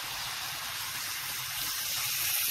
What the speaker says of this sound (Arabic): انا هنزل بكوبايه ميه